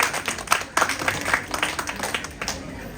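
Audience clapping at a cookbook launch ceremony with popular stars, several seconds of steady, fairly loud applause with individual claps audible, slowly easing toward the end.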